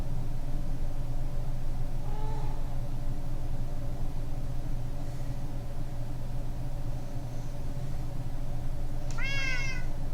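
A Minecraft cat gives two short meows, one near the start and a brighter, clearer one near the end, over a steady low hum of game and background noise.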